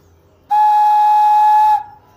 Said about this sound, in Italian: Intanto siamo sicuri che il nostro fischietto funziona, dato che ha questa forma a pesce o uccellino secondo i gusti